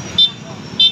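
Evening rush-hour traffic crawls along a jammed road in Bicutan, Taguig, in the Philippines, a steady roadway rumble with two bright car horn toots, one early and one near the end, beneath a voice.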